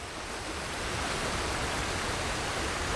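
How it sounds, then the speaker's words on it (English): In Ghost of Tsushima, a loud waterfall roars in a continuous broadband rush, swelling slightly after the first second and then holding steady and close, with no speech over it. "Waterfall is quite loud."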